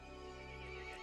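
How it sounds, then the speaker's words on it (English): A horse neighs loudly and close in the video game Resident Evil Village, one sustained whinny filling the moment with no talk over it. "The horse grew angry and summoned the other monsters."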